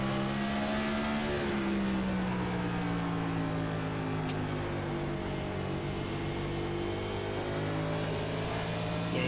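Onboard stock race car engine at North Wilkesboro Speedway, a loud sustained drone with steady harmonics that dips and holds as the car runs through the corner, with no voices.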